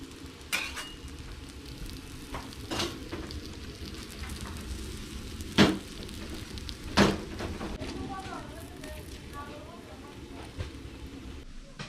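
Parotta flatbread frying in oil on a pan, a soft steady sizzle with a few sharp clinks of utensils, while a person talks over it.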